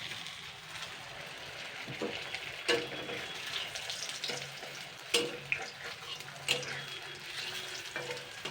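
Steady crackling sizzle of aloo puris frying in hot oil, with a few sharp clinks and scrapes of a utensil, no voices.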